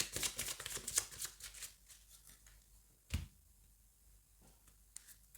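A deck of cards is cut and handled with quick crisp riffling and snapping clicks at the start, then a single sharp tap and a few faint shuffles near and quiet.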